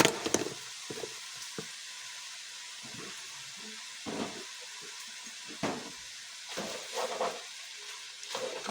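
A whole bunch of butter sizzles in a pan, making a soft, steady hiss with a few sharper crackling flare-ups and brief clatters, faint and without voices.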